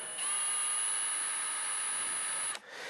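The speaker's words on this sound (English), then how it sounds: "You have to pre-drill this plastic." A high-pitched power drill whines steadily for about two and a half seconds while pre-drilling a hole in plastic, then stops abruptly.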